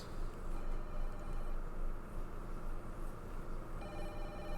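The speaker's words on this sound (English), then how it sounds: "I hear the phone ringing." Telephone ringing in the video game Fatal Frame: Maiden of Black Water, a faint ring set against a steady hiss of eerie ambient noise, with no voices.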